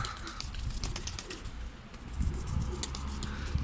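Pigeons coo softly and repeatedly in a loft amid scattered wing flaps and rustling, a close, busy bird sound without talk.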